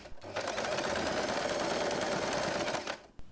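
A sewing machine stitches a fabric scrunchie seam in one continuous run of rapid, even mechanical chatter lasting about three seconds, then stops, close up and without talk.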